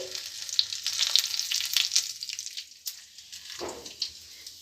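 Whole white cumin seeds sizzle in hot oil in a wok, a steady close crackling fry with faint clicks of stirring throughout.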